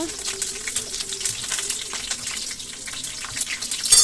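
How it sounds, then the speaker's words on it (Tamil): Mustard seeds, ginger, curry leaves and slit green chillies fry in hot oil for a poori side dish, a continuous bright crackling sizzle with scattered pops, steady and close throughout, getting slightly louder near the end. "கொஞ்சம் கடுகு, அது கூட கொஞ்சம் இஞ்சி, கருவேப்பிலை, பச்சை மிளகாவை கீறி போட்டுக்கோங்க"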